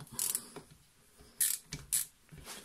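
A tool loosens two screws that hold a lubrication pump to the crankcase of a DTMX motorcycle engine, giving short metallic ratcheting clicks and scrapes in separate bursts with quiet gaps between.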